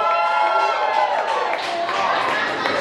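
An audience at a spoken-word show cheers and claps, a dense wash of crowd noise and whoops that stays fairly loud and steady throughout.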